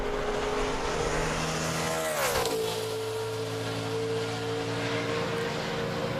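A NASCAR stock car lapping Homestead in 2008 Cup qualifying roars steadily, with a pitch drop as it sweeps past, then a continuous loud engine drone to the end.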